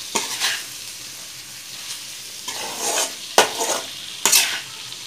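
Masala for Kerala-style mango pickle with mango pieces stirred in a frying pan: soft sizzling broken by a few sharp spatula scrapes against the pan, close and alone without talk.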